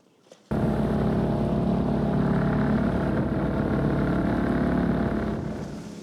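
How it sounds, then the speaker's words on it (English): A sailing boat's inboard engine runs steadily on the west coast of Scotland near Lismore, starting abruptly after a brief quiet moment and holding a loud, even drone that eases off slightly near the end. "now back to motoring"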